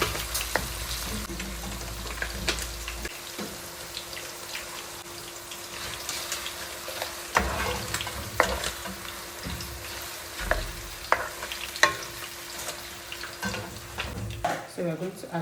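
Continuous sizzling and crackling from food frying in a pan, with scattered sharper pops and a constant faint hum throughout.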